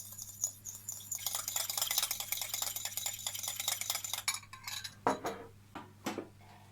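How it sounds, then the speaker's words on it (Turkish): An egg yolk is beaten with a spoonful of water for glazing burger buns: rapid, continuous close scraping and ticking of the utensil against the bowl, then a few distinct clinks as the beating stops. "Üzerine bir yemek kaşığı su ilave ettim ve güzelce çırpıyorum."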